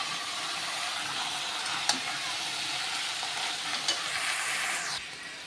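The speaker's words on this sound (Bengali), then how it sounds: "এবার ভালো করে নেড়ে চেড়ে নেব।" Cabbage and potatoes fry in a pan with a loud, continuous sizzle and hiss, and a utensil stirs and scrapes through them now and then. The sizzle drops a little near the end.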